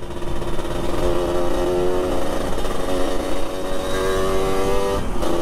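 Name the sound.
motorcycle engine revving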